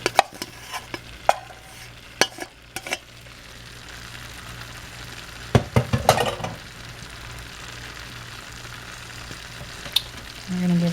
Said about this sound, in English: We're going to give that a mix.